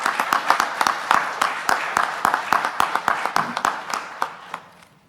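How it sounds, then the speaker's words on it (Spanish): Conference audience clapping to welcome a speaker, a series of loud sharp claps that fall into a steady rhythm and then trail off and fade out. "Y le damos la bienvenida con un fuerte aplauso"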